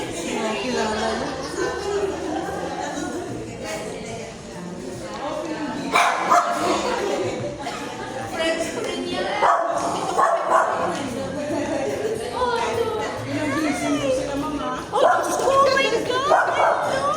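Several pet dogs at a home yip, whimper and bark in short bursts while people chatter and greet each other over them.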